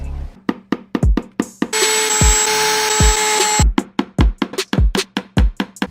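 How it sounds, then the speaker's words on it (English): A nail gun firing trim nails into wood gives a rapid series of sharp, loud snaps and knocks, interrupted midway by a steady, bright, whining mechanical noise lasting about two seconds. "I'm gonna put in trim nails right up along the edge"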